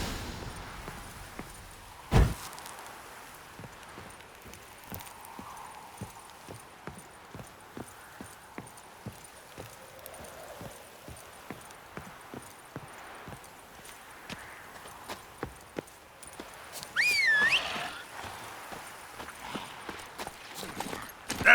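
A horse in the video game The Witcher 3: Wild Hunt moves along with steady rhythmic clip-clop hoofbeats at moderate volume, joined by scattered game ambience and a brief louder sound near the end.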